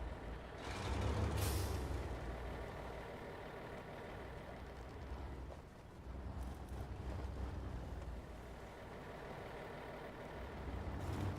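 An AMX Mk38 truck in SnowRunner lets out a loud air-brake hiss over its steady rumbling engine while struggling out of a ditch, with the engine droning on afterward.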